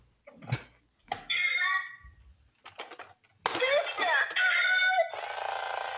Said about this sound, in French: Elle fait le coq.